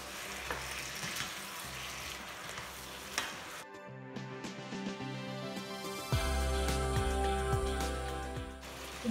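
Cleaned chicken pieces dropped into hot oil, a soft frying sizzle under stirring, with a brief quieter break and then a louder, fuller hiss as the pieces go in.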